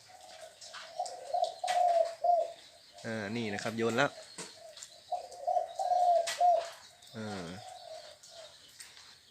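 Low, rounded dove coos come in short bursts, with thin bird chirps and someone talking over them.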